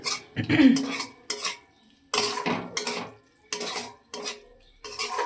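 A spoon stirs mustard oil into a fish curry spice paste in a pan, making repeated close scraping and clinking strokes in short bursts with brief pauses between them.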